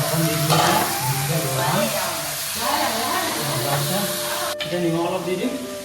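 Meat pieces going into a hot pan of spiced masala and frying, a steady broadband sizzle that runs loud and continuous through the whole stretch, with some background sounds over it.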